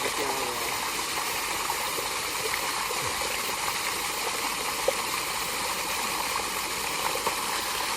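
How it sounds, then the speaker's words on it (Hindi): Steady rushing water from a tube well pours continuously at close range, a dense broadband wash with faint voices beneath it, in a Pakistani village in summer. "اس ٹیوب ویل کے نیچے نہانے کا اپنا ہی مزہ ہے"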